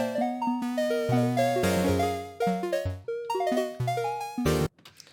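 A synthesizer from the Arturia V bundle plays a chord progression alone, with sustained stacked chords changing every half second or so and cutting off abruptly near the end.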